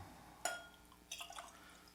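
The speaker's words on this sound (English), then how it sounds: "there's the pour" Blended malt whisky poured into a glass, a small 25 ml measure: a sharp clink followed by a brief, quiet trickling splash, close up in a quiet room.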